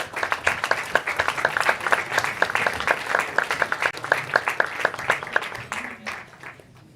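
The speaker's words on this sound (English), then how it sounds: "Big applause." A crowd applauds at a conference session, dense rapid clapping filling several seconds before thinning out, with a voice faintly underneath toward the end.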